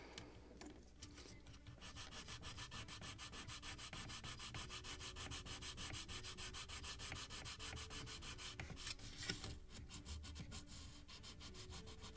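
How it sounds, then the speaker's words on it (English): Sandpaper rubs soft basswood planking on a model gunboat hull in close, quick, steady back-and-forth strokes that run continuously with no voices. "Maybe just a little more sanding right here."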